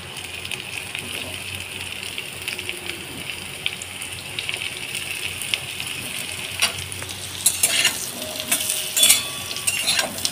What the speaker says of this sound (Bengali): সামান্য একটুখানি ভেজে নেব, যাতে কাঁচা গন্ধটা চলে যায়